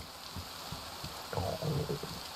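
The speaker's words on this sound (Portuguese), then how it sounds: "Eita, a barriga tá roncando." A character's stomach rumbles in the DayZ video game, a low gurgling growl that swells near the end of the short stretch over faint ambient rain, with no voices.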